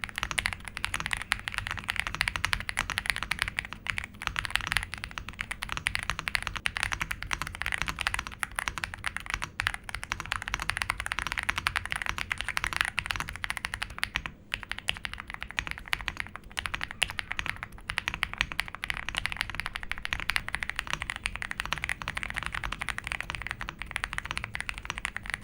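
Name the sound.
typing on RK R65 65% keyboard after mod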